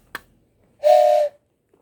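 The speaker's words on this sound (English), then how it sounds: "there was a whistle from the distance" A single steady train whistle blast with breathy hiss, held for about half a second after a brief click, alone against silence, sounding from a distance.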